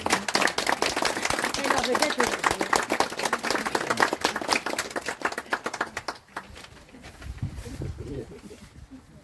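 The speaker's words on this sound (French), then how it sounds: "On peut encore applaudir" A congregation at an outdoor mass claps in a brisk burst of many hands for about six seconds before it dies away, with a voice speaking briefly and some quieter ambient sound afterward.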